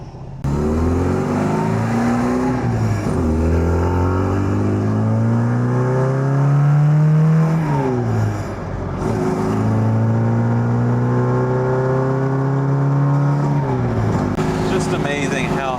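A 1965 Mini Cooper's engine heard from inside the moving car: loud and close, its pitch climbing steadily through each gear, then dropping at each shift before rising again.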